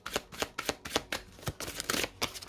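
A deck of tarot-style cards is cut and shuffled up close, giving a quick series of crisp riffling flutters in rapid rhythmic bursts with no speech.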